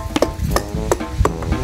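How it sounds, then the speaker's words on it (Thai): A hard frozen block of basil seeds being pounded, giving a few sharp, knocking thuds like striking stone, irregular and close, about five hits in under two seconds, with no talking. "นี่ถึงขั้นตอนการทุบแล้วครับ โอ้โหฟังเสียงแข็งโป๊กเหมือนก้อนหิน"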